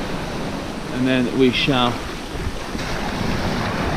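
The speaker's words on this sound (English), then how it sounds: "Gonna wait for this breaking wave to come" Sea waves break on a beach at Pevensey Bay at night: steady wind-blown surf wash with microphone wind noise, while someone speaks briefly in the middle.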